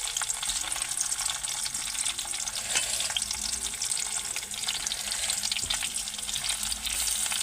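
Chopped onions fry and sizzle in hot oil with bay leaf while being stirred, a continuous bright crackle with occasional scraping of the spoon, close and steady with no talking.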